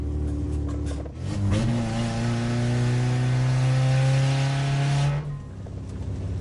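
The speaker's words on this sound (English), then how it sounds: "Oh dear, I think I've just lost the exhaust pipe." A Fiat car that has just lost its exhaust pipe roars and revs hard, its loud unmuffled engine rising and holding for several seconds before easing off.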